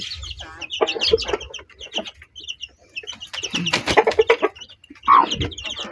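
A mother hen clucks in short repeated bursts while feeding newly hatched chicks on corn and mixed feed, the chicks peeping high and rapidly around her, close by and fairly loud.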